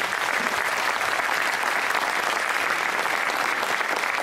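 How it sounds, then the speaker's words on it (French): Children applaud steadily after a girls' youth basketball game, a dense, continuous patter of clapping that fills the gym at an even level from start to end, with no voices standing out. "Vous pouvez vous applaudir et vous pouvez les applaudir"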